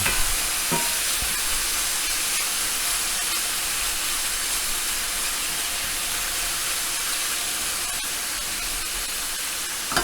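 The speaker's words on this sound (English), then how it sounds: "We're going to flip that, again put it down to one layer, sear the other side." Venison pieces searing in a hot skillet give a steady, dense sizzle that stays loud and even from start to finish, with no talking and only brief small clicks.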